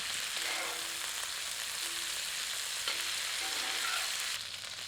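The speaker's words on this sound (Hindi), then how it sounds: "भूनते समय इन टुकड़ों को पलटते रहें ताकि यह समान रूप से भुने।" Chicken pieces fry in oil in a pan for a spicy restaurant-style curry, giving a steady, close sizzle throughout with a few brief scraping stirs, and no one speaks.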